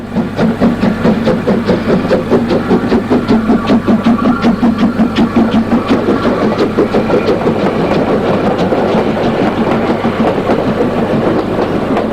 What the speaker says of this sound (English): O238 departs with a train for Schierke and takes the branch soon after leaving the station.